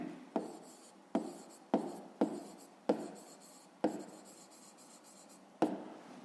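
A maths solution written by hand with a pen on paper: about eight sharp, close strokes arrive at uneven intervals, each trailing into a short scratchy scrape.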